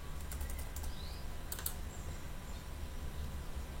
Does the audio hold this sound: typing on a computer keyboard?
yes